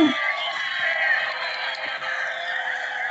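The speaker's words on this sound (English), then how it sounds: "The crowd is still fucking going." A WWE Hell in a Cell pay-per-view arena crowd after the final match, with dense, sustained cheering, whooping and shouting from a large audience filling the space continuously.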